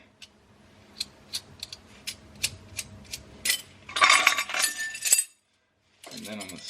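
Metal clinks and short ratcheting turns while 2 1/4 inch exhaust clamps are loosened, a series of sharp isolated taps followed by a denser burst of wrenching, close and fairly quiet.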